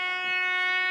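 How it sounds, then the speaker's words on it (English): An approaching train sounds a sustained, loud multi-tone horn blast held steadily for the full second with no one speaking. "The train is coming."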